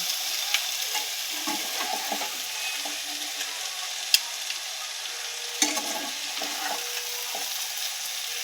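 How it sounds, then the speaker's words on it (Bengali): Prawns sauté in masala in a pan with a low steady sizzle, broken by occasional sharp clinks and scrapes of a spoon stirring, close by, no talking. "আচ্ছা, তো এবার এই মশলাটার সাথে চিংড়ি মাছগুলো আমি কষিয়ে নেব।"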